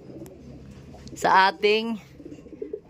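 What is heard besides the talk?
racing pigeons cooing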